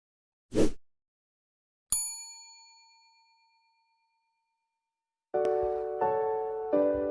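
A notification bell dings once, bright and ringing, with a long fading tail. A short whoosh comes before it, and a few layered chime strikes follow a few seconds later. No one speaks.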